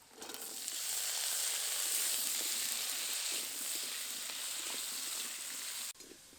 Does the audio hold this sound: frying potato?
yes